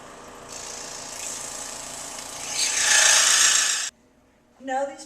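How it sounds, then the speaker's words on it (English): A scroll saw fitted with a number 12 blade cuts through wood with a steady buzzing rasp that grows louder midway, stops abruptly, then briefly resumes. "go over to my scroll saw and using a number 12 blade, I will cut the wood on these lines"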